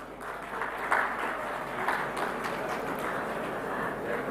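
An audience claps at an MOU exchange during India Maritime Week in Mumbai, a steady, even round of applause from a large crowd, moderately loud and continuous throughout.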